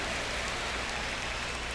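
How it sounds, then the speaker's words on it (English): Heavy rain falls steadily on a baseball field during a game, a dense, even hiss that continues without a break and with no voices over it. "the field's not going to be able to hold up if the rain gets any worse than this"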